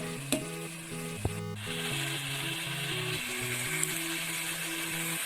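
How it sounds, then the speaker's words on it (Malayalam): Colocasia leaf thoran masala sizzles steadily in a pan over high flame, a continuous frying hiss with a few sharp clinks of a utensil and gentle background music. "ഒരു ഹൈ ഫ്ലെയിമിൽ വെച്ച് ഒന്ന് ഒതുക്കി ആ മസാല ഒന്ന് വേകാൻ വേണ്ടി മാത്രം വിട്ടു കൊടുക്കാം"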